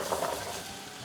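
Two onions hit hot oil in a pot after corned beef has been browned, giving a soft continuous sizzle with a faint clink of utensils and stirring.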